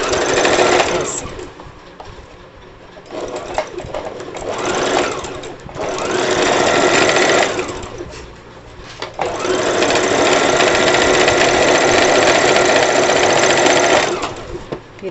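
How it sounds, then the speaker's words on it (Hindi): A sewing machine stitches a salwar in loud, close bursts of rapid whirring, with short pauses between runs and a long steady stretch, and a voice speaks briefly in the gaps. "अब हम यहाँ सिलाई लगाएंगे"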